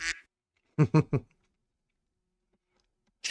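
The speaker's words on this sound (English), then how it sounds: "Just a duck quacking." A duck quacks three times in quick succession, loud and close against silence, with a brief sound just before and another burst at the end.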